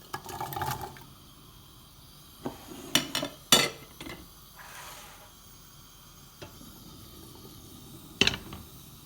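Onion and garlic drop into olive oil heating in a pan on a gas stove, giving a soft sizzle broken by several sharp clinks and knocks of utensils against the pan, with no talking.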